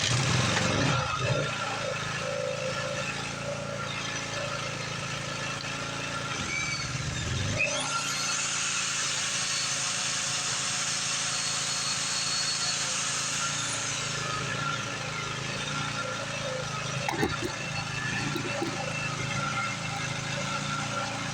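A small gasoline generator with fuel problems drones steadily while powering a 7.5-amp electric drill, the drill whirring up in a long high burst mid-clip over the engine's constant near rumble.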